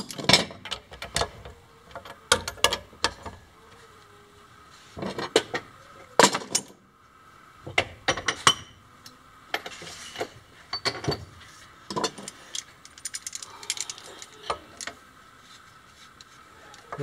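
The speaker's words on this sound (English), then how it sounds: "Just gotta tighten some bolts." Wrench tightening bolts on a lumber mill blade pivot, heard as bursts of close metallic ratcheting clicks and clanks separated by short pauses, with quiet room tone between them.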